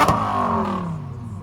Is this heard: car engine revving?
yes